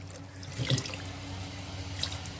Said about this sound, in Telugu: అందుకని చెప్పి కాస్త నీళ్ళు పోసుకోవాలి